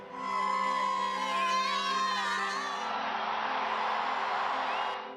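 A huge crowd of pilgrims cheers in ecstasy at the papal election, a loud, sustained roar of shouts and whoops over rising musical tones, spread wide and distant.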